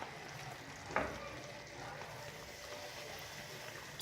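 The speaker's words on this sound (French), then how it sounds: "On mélange bien." A Moroccan meatball tagine cooks in a pan, giving a soft steady sizzle with a faint scrape of stirring partway through.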